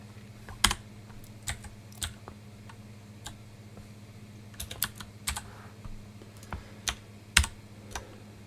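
Someone types on a computer keyboard in irregular clusters of crisp key clicks over a quiet low hum, close and fairly soft, with no speech.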